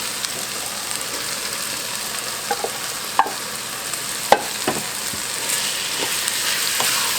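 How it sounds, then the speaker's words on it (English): Black beans and cream cheese hit a hot pot with a steady loud sizzle that fills the whole stretch, broken by a few sharp scraping clicks of a utensil. "now I'm going to add my black beans and my cream cheese"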